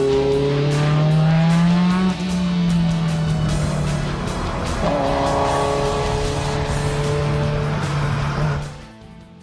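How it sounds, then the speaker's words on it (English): A Ferrari 288 GTO Evoluzione races on a racetrack, its engine loud and close, climbing and shifting in pitch through gear changes before the sound drops away as the car passes. "Here's a rare chance to see a 288 GTO Evoluzione in racetrack"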